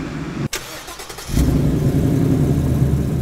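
A new Ford Mustang engine burbles, then revs hard after a brief cut, settling into a loud, steady, rumbling idle close by, with no talking.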